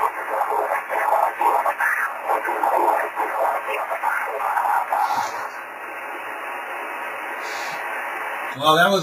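A 10 GHz rainscatter amateur radio signal comes through garbled, an unintelligible warbling voice under a hissing noise floor, fading to static midway before a brief chirp at the end.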